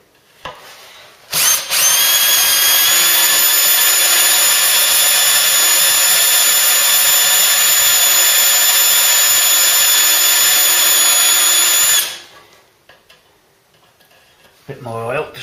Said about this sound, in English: drill at the ready, super drill bit, cutting oil, dip it in the cutting oil